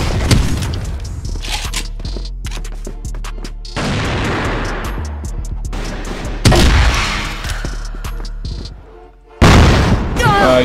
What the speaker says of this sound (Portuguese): Granada, eu escolho você!